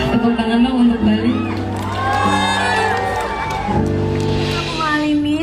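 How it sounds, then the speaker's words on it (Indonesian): A concert crowd cheers and whoops for Bali, a sustained roar of shouts beneath a voice speaking or singing over it. "Tepuk tangan dong untuk Bali."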